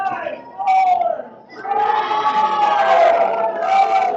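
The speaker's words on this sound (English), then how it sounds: "The crowd starting to yell for the pull to occur." Spectators at a boys' ultimate frisbee championship final yelling and cheering together, a loud sustained roar with a brief dip before swelling again, voices mixed in the noise.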